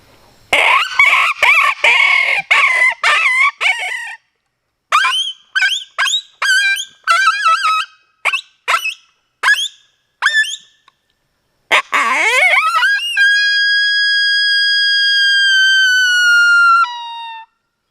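A closed-reed coyote howler call blown in a rapid series of short, shrill yelps, then a long rising howl that holds steady and ends abruptly with a pitch break; loud, no talking.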